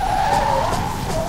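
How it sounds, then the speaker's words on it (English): A car's tires skidding and squealing as it spins out in the Blur racing video game, a loud sustained screech over engine rumble lasting about a second. "Oh, I spun out."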